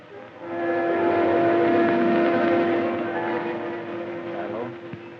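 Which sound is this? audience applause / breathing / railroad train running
railroad train running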